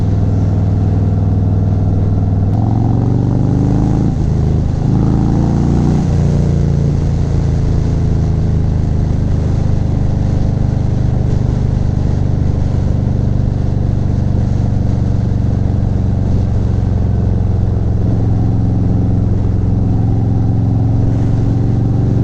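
A 2019 Harley Davidson Softail Slim rumbles loud and steady on the move, its engine note rising and falling through gear changes amid constant wind rush.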